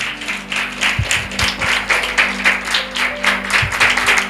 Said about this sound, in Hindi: जोरदार तालियां यीशु नासरी के लिए